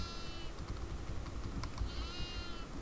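A goat bleats in the Devour video game, giving two wavering cries, one at the start and one about two seconds in, above a constant low, noisy rumble.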